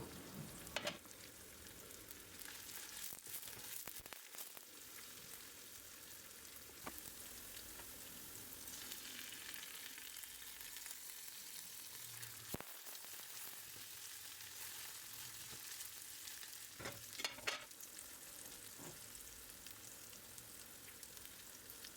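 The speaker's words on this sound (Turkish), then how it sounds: "Zeytinyağında kabakların kabuklarını güzelce kavurduktan sonra hemen pirinçleri ilave ediyorum" Rice and zucchini peels fry in olive oil, a continuous soft sizzle with occasional sharp clicks and scrapes of stirring, fairly quiet throughout.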